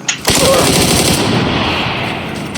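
Rapid automatic gunfire in PUBG: Battlegrounds, a loud sustained burst of shots that starts abruptly after a brief quiet moment and rattles on continuously to the end.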